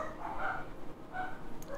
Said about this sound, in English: And there go the dogs.